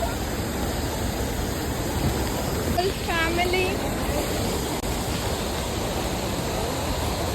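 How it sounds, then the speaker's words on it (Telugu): Waterfall in Netravali forest, South Goa, roars as a steady, broad, loud rush throughout, with a brief voice speaking over it midway. "మేమైతే వాటర్ ఫాల్ దగ్గరికి వచ్చేసాం."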